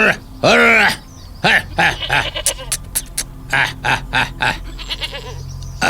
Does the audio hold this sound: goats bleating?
yes